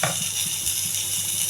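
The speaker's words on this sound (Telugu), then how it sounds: "ఇది బాగా వేగాలండి." Onion sizzles in hot oil with urad dal, cumin and dried red chillies, giving a steady frying hiss with faint crackles and occasional stirring.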